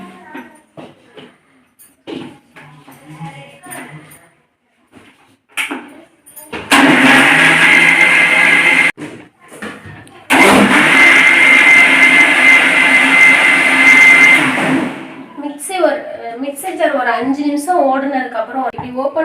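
A mixer grinder whirs loudly in two bursts of several seconds each, blending milk cream with water to separate butter, with talking before, between, and after the grinding.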